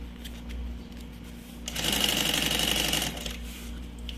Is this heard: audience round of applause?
no